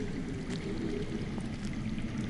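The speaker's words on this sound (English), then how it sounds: "That's water. I hear water. From underground." Underground running water in a Game of Thrones video game, a steady, faint rushing flow with soft gurgles, continuous and unbroken with no voices.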